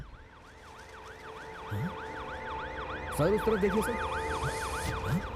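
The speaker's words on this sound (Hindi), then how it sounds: "यहाँ पर एम्बुलेंस आ गई है।" A wailing ambulance siren in an action movie scene rises and falls in steady repeating sweeps, loud and continuous, while people talk over it.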